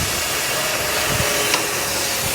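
A vacuum pump running on a vinyl record stamper machine during lacquer plating, a steady, fairly loud whooshing hum that holds unchanged for the whole stretch with no talk over it.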